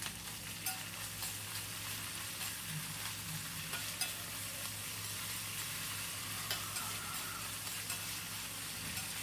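Onions stir-fried in an AMC kadai for veg hakka noodles: a continuous close sizzle with soft, repeated scraping stirs throughout.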